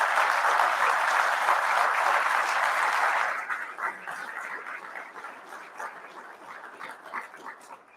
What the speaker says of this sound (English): Can you please join me in a big round of applause for those departments?